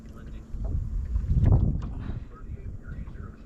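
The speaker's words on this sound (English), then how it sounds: "Lord, it's cold and windy." Cold wind blows across the open Ohio River around a drifting fishing boat, a low, fairly faint rumble that swells in the middle and then eases, with faint sounds from the boat.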